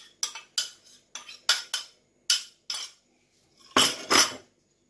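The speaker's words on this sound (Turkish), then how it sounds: "İyice karıştırıyorum" A spoon stirs yogurt culture into warm milk in a bowl, tapping and clinking against the sides in a quick run of close, separate strokes with short pauses and two louder scrapes near the end.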